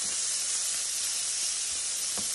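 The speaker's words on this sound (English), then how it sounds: "And once the grease is in here, this bacon gets cooked." Bacon fries in its own rendered grease in a pan, giving a constant, close, bright hiss of sizzling fat with faint pops and no voices.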